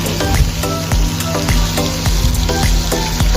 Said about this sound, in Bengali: মাছটা লো ফ্লেমে ভাজতে হবে, নাহলে ভিতরে কাঁচা থাকার সম্ভাবনা থাকে